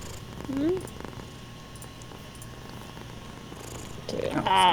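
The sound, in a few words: cat purring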